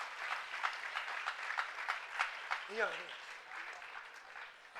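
An audience claps at a religious procession event in Rajnagar, steady applause running under a voice speaking over it, fairly faint and distant.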